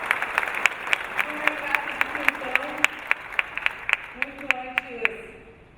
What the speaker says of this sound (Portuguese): eu queria uma salva de palmas pra ela